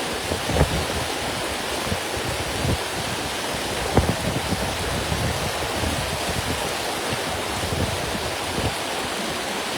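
Heavy rain pours over a flooded river at Tubod Bridge in Mahayahay, a dense, unbroken roar of falling water and rushing current with a few sharper splashes and no voices.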